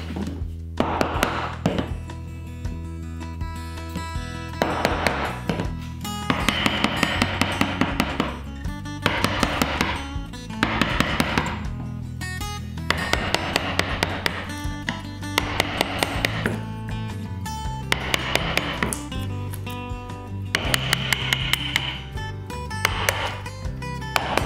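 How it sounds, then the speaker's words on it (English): A hand saw cuts dovetail pins in black walnut, a long series of rhythmic rasping strokes in short bursts separated by pauses, close and steady throughout. "now I'm cutting the pins, and I like to cut the pins first"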